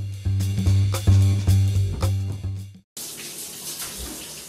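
Water runs from a shower in a luxury condo bathroom, a steady close hiss that starts abruptly partway through after a stretch of other sound, continuing alone without talk.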